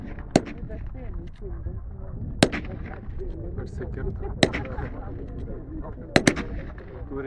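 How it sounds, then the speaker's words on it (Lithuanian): Sharp gunshots ring out at intervals of about two seconds during a reenactment of a partisan attack on an NKVD car. The shots cut through a dense, rumbling background while someone talks over them. "Atrodo, kad keletą taiklių šūvių pataikė į automobilių variklį ir automobilis lyg tai užsidegė."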